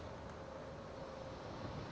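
Wind gusting outdoors across a phone microphone, a steady broadband rumble and hiss that runs unbroken and fairly loud for the whole stretch, with no voices.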